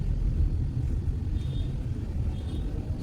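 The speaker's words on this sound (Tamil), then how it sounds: "ஒரே அமுத்துங்க அப்படியே வண்டி சல்லுன்னு போகுதுங்க" Hindustan Ambassador car in mint condition driving, a steady low engine and road rumble running throughout at even loudness, with no talk.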